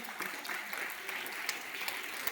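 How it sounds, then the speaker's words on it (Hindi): Applause from a school morning assembly crowd: a steady, dense patter of many hands clapping together, sustained at even loudness throughout with no voices standing out. "जोरदार ताली बजाइए"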